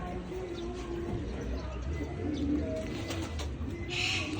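Pigeons cooing in a loft setting at a San Jose arrival, a few soft low coos under steady background noise, with a brief brighter chirp near the end.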